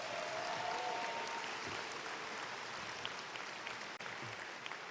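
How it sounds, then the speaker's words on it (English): Sustained applause from a large audience at a spring commencement ceremony, steady and dense across the whole stretch with no talking over it. "Can we give them all a round of applause?"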